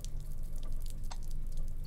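Water running from a turned-on tap in The Silent Age video game, a steady close trickle with a few small drip-like splashes over a low, continuous wash.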